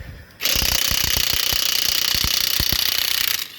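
A cordless impact gun fitted with an impact socket spins off a car wheel's lug nuts, making one loud, continuous rattling hammer burst of about three seconds, close up, with no talking.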